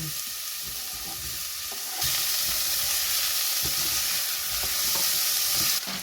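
Minced ginger and onion sizzle in oil over really high heat for a one-pot chicken curry, a steady, close frying hiss that grows louder partway through and continues without talk.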